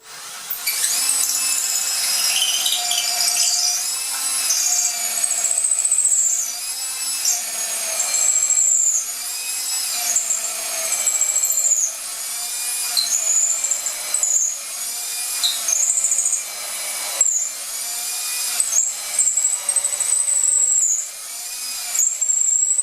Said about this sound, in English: I'll get my trusty drill out and drill that pocket hole.